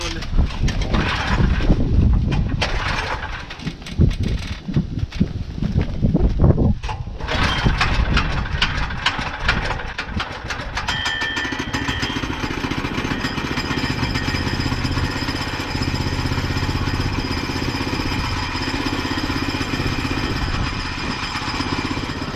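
Sawmill engine starting up with rough, loud sputtering and knocking bursts, then settling into a steady, close running hum that continues for the rest of the clip, with brief voice in the background early on.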